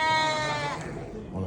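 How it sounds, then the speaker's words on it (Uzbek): Sheep bleating at a Thursday livestock market, a loud, harmonic bleat in the first second fading into crowd murmur, with another animal call rising near the end. "payshanba bozorimizga kelgan qo'ylar."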